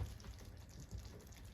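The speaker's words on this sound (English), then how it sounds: "cup and a half of water. I'm going to dump that in right now." A cup and a half of water pours into a cooking pot, a soft steady splashing gush heard close up and fairly quiet, with no talking.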